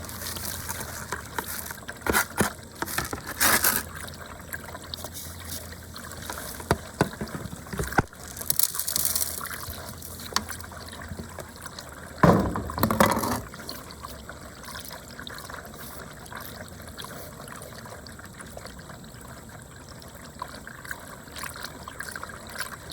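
Water trickles and washes down a sluice dream mat during gold prospecting, a quiet continuous flow broken by a few louder splashing bursts.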